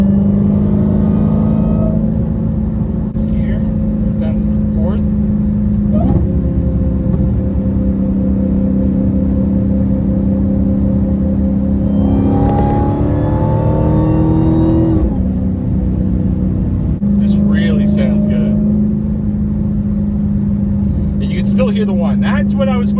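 A Dodge Charger Hellcat fitted with a Borla ATAK exhaust and valve simulators rumbles loudly from inside the cabin, with a steady low drone, swelling revs during acceleration and brief voices in the car.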